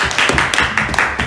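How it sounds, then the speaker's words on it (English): A short burst of quick, close hand claps rings out at a live poker game in Brisbane, several sharp claps in rapid succession without speech. "Round of applause for Trav,"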